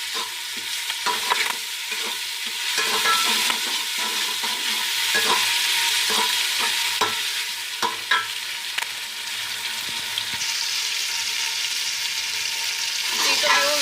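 Garlic ginger paste frying in a pan while being stirred, a continuous sizzle broken by irregular scraping and clinking strokes of a spoon against the metal, close and clear, with no voices over it.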